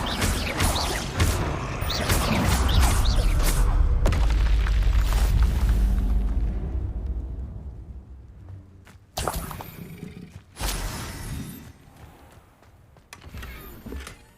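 In the Hogwarts Legacy video game, a Confringo blasting spell sets off a loud, rumbling explosion that fades slowly, followed by a few sharper bursts and impacts.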